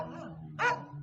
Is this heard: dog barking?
yes